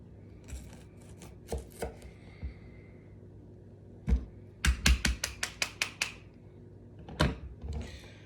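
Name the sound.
knife slicing and cleaning raw chicken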